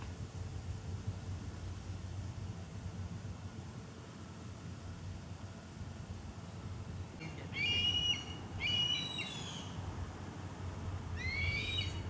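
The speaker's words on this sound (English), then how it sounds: "you can see other hawks circling and they're calling to each other" Several hawks circling overhead give high, piercing calls to one another, three bursts of descending screeches in the second half, fairly distant over a steady low rumble of wind or traffic.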